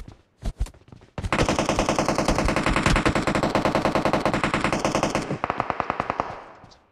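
Automatic gunfire in the mobile shooter Battlegrounds Mobile India on the Erangel map: a few short shots, then a long, loud, rapid sustained burst of several seconds, ending in a handful of separate single shots, with no talk.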